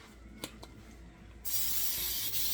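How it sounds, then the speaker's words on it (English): A few small clicks and handling noises, then a sudden steady hiss of aerosol cooking spray onto a bundt cake pan that continues to the end. "I'm going to spray my pan."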